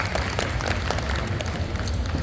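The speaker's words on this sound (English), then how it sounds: "Round of applause for Miss Coco Shea'nel." Brief burst of audience clapping at a tattoo convention pinup pageant, a dense patter of many hands heard fairly close amid crowd murmur.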